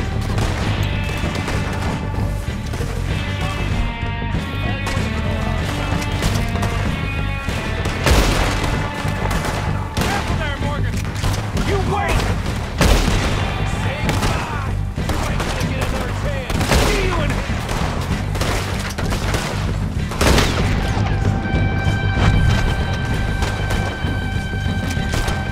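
Gunshots crack repeatedly in Red Dead Redemption 2, some single and some in bursts, loud and sharp across the whole stretch over a steady musical score and game sounds.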